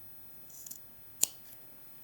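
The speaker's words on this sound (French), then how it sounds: "Je vais couper les surépaisseurs." Fabric scissors snip through the seam allowances at a skirt waistband, a couple of quick soft cuts followed by one sharp, crisp snip, close and clear in a quiet room.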